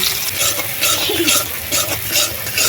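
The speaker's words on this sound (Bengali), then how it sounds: "তেল গরম হয়ে গেছে একেবারে ঝুরু ঝুরু পেঁয়াজ কুচি দিয়ে দিচ্ছি" Chopped onions sizzle and fry steadily in hot mustard oil in a kadai, with a spatula stirring through them at intervals, close and loud with no talk.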